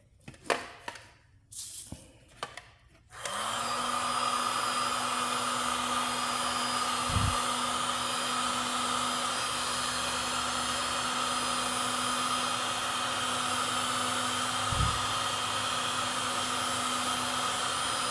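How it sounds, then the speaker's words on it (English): Heat gun blowing on wet wood of a Traditions Kentucky pistol kit stock to raise the grain, a loud steady whirring blast with a constant tone that starts suddenly after some brief handling noises and runs on unbroken. "I'm going to use a heat gun to speed up the process"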